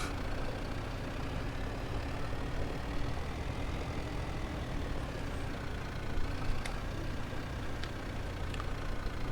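A tractor engine running steadily at low revs while it creeps forward on a homestead during a barley harvest, a continuous rumbling drone throughout with no one speaking.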